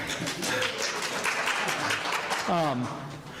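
Audience applause at a sheriff candidate forum in Deschutes County, a modest spread of clapping from a crowd running beneath a person speaking over it.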